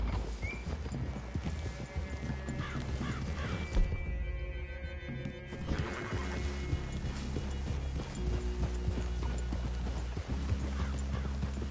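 Horses walk through the woods in Red Dead Redemption 2, their hooves clip-clopping in a steady, close rhythm. A brief whinny is heard, and a moment of near-quiet falls midway before the hoofbeats resume.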